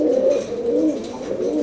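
Pigeons in a breeding loft coo steadily and closely, with low, rolling, repeated calls and no talking.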